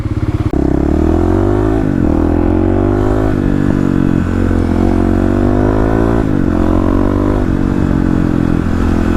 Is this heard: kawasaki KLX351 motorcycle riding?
yes